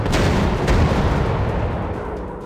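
A bomb dropped on a fuel tank in a WWII warplanes video game explodes in a loud, sustained rumbling blast that slowly fades over a couple of seconds.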